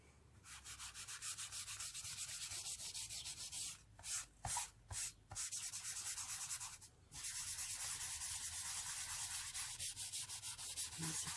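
Dry pastel rubbed steadily across paper while colouring a background in violet, a close, continuous scratchy rubbing with a few brief pauses and strokes that start again.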